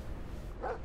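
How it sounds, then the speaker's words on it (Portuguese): A single short dog bark in the horror game Nuclear Nightmare, rising briefly over a steady low background rumble near the end. "Cachorro? Ai, cachorro!"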